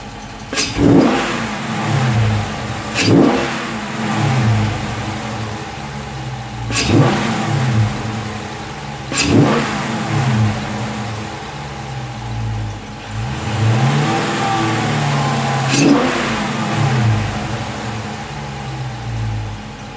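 A 2016 Dodge Charger Scat Pack with a cold air intake revs repeatedly, each blip rising sharply then falling back to a deep, rumbling idle, loud and close.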